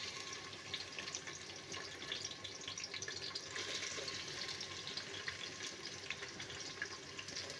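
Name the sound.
onions frying in hot oil in pressure cooker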